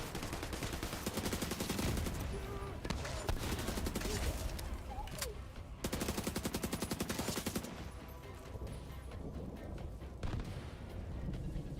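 Rapid gunfire in a hardcore realism video game campaign: dense, sustained bursts of shots and distant explosions rattling continuously.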